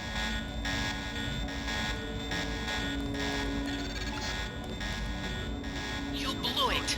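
A continuous electronic alarm buzzes in the Deus Ex video game, a steady tone that drones on for the whole stretch over a low ambient hum, with faint game voice sounds mixed underneath.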